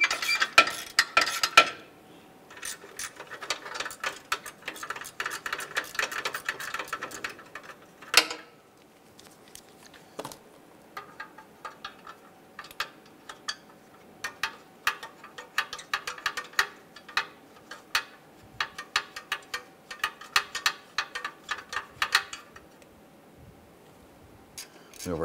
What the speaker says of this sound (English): using our 12 millimeter socket and ratchet, you wanna go ahead and loosen and remove the two bolts holding this